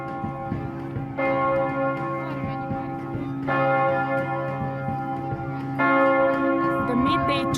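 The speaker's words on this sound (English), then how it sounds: "The midday church bell ringing commemorates János Hunyadi's great victory over the Turks in 1456." A church bell in Budapest rings at midday, its resonant tolls repeating at a slow, steady pace with long ringing overtones that build and sustain, clear and fairly close with no talk over it.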